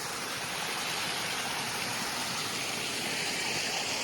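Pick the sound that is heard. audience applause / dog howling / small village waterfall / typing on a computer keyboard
small village waterfall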